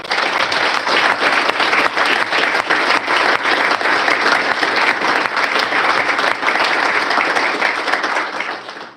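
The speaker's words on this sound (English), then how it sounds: "Let's give that team a round of applause." A room full of people applauds a championship team at a county proclamation event, dense and sustained clapping at even loudness for several seconds before tapering off at the end.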